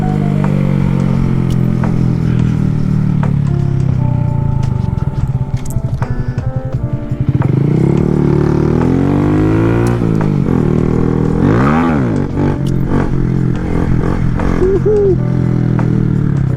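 A Honda Grom stunt motorcycle rides and pulls wheelies, its small engine loud and close, revving up and down repeatedly with rising and falling pitch sweeps and a stuttering, clattery idle in between.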